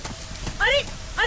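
Horses bolting after being frightened by lightning, with clip-clopping hooves mixed with a voice or whinny-like calls in two bursts, close and fairly loud.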